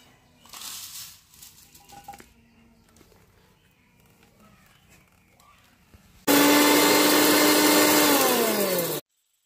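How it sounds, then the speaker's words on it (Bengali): An electric grinder whirs through roasted whole spices in a loud, sustained high-pitched burst lasting nearly three seconds, its motor pitch sagging slightly under load, after quieter kitchen handling sounds and a faint bird coo. "ভাজা মশলাগুলো আমি গুঁড়ো করে নিয়েছি"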